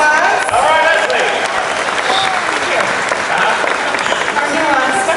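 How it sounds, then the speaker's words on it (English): A crowd at a Disney Hollywood Studios stunt show applauds a volunteer, loud sustained clapping and cheering filling the space, with voices mixed in throughout. "Let's give a big round of applause"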